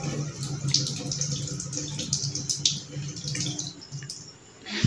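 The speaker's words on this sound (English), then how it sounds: "Let's wash this" A peach washed under a running kitchen tap, giving a steady, close rush of water with splashing and spattering as the fruit turns in the stream, heard with no talk.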